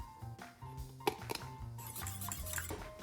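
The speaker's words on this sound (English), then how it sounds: "add the cheese and stir the mixture until it's smooth" A spoon stirs a white chocolate and cheese ganache in a pot on the heat, giving scattered clinks and scrapes of metal against cookware, close and fairly quiet over a low kitchen hum.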